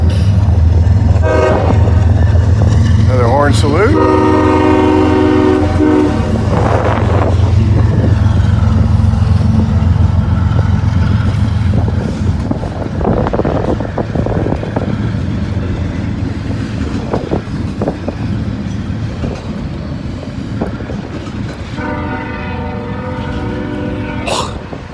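A freight train sounds a loud, sustained horn salute on a windy day, sounding twice, then again near the end, over the heavy rumble of rolling railcars and gusting wind noise.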